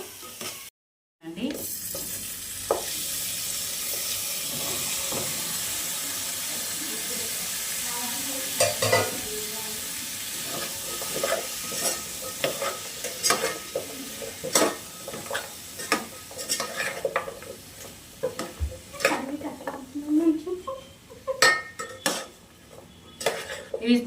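Ground garam masala spices fry and get stirred in a pot for chicken biryani, a steady sizzle under repeated scraping and clanking of a utensil against metal.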